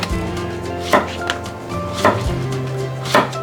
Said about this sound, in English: Next, some zucchini. Gonna cut it 1/4 inch thick or so.